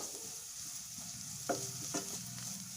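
Ginger garlic paste fries in a pan for soya chunk manchurian, with a constant bright sizzle and a few spoon scrapes and taps, close and without talk.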